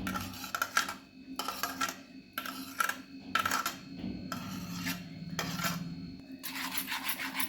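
Beaten eggs with finely chopped onion and tomato being mixed in a bowl for a quick omelette: a run of repeated scraping, rasping strokes in bursts with short pauses between them, close and fairly quiet, with no talking.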